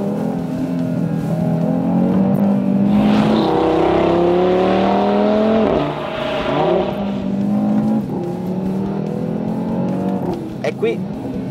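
An Audi TT RS with a 400-horsepower engine revs hard in Dynamic mode with its exhaust open, a loud sustained roar climbing in pitch, then dropping sharply, followed by further throttle blips and a brief crackle near the end.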